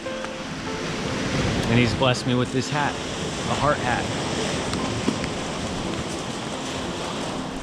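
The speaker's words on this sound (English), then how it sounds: "standing here at the base of the Sea of Galilee while it's storming and raining" Storm wind and rain at the Sea of Galilee shore roar as a steady, loud broadband wash, with someone speaking briefly over it near the middle.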